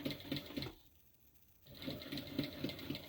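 Sewing machine backstitching a seam on a small tote bag: quiet rapid needle clatter in a steady rhythm, pausing briefly for a second before the stitching resumes at the same pace.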